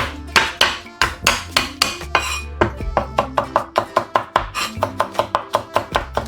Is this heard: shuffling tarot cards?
no